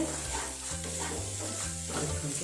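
Paneer masala with butter being stirred and fried in a pan, a steady close sizzle with rhythmic scraping strokes of the spoon throughout, no talking.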